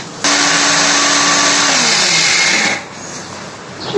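An electric blender grinds whole spices for an Eid masala mix, a loud steady whir running for about two and a half seconds before stopping abruptly, leaving quiet room tone.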